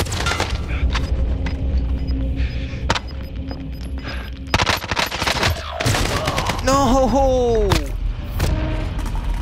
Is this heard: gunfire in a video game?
yes